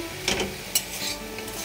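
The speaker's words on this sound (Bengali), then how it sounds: "আজকে করছি ভাত, এই যে কলমি শাক ভাজা" Water spinach (kalmi shak) fries on an induction cooktop, a constant close sizzle with two quick scraping stirs from a spatula against the pan.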